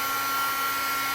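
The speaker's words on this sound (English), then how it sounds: "I am just going to turn my heat gun on. I apologize for the noise." A heat gun blows a steady, even, whooshing hiss with a faint motor whine, running alone at a constant moderate level.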